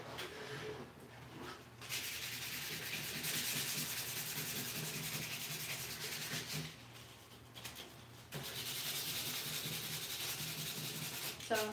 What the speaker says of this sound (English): So just using the 180 paper here, you can use a pad or a block, whatever's more comfortable for you.